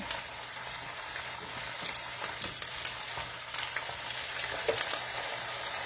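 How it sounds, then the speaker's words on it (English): Meat sears in a pan on high heat with a steady frying sizzle, a dense hiss with occasional pops and crackles, close and continuous with no talking. "The sizzle is all well and good."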